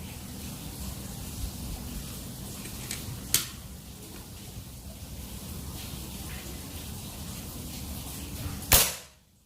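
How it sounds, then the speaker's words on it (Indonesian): One crisp, loud report from a PCP air rifle with a folding stock and 30 cm seamless barrel comes near the end, with a smaller click earlier, over steady ambient noise. "Tembakan kelima."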